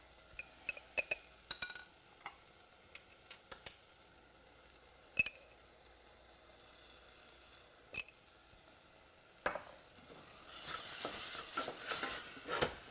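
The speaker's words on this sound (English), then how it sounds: "Another 30 seconds of sauteing on this flame" Tomatoes sauteing in a pan over a gas flame give a soft, steady sizzle, punctuated by a series of clinks and stirring scrapes from a utensil, with a brief louder burst of frying near the end.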